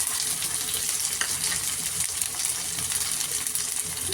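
Ginger garlic paste sizzling as it is sautéed in hot oil for prawn biryani, a steady bright hiss and crackle running unbroken throughout, close and fairly loud with no talking.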